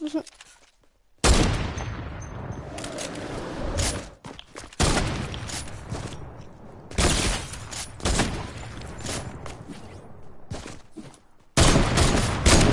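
Loud bursts of rapid gunfire from a shooter video game, with several volleys separated by brief quiet gaps across the stretch, player noise mixed in.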